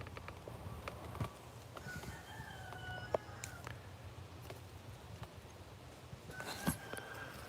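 A chicken in a garden under a fruit tree makes a few short, scattered clucks and calls over a steady outdoor background.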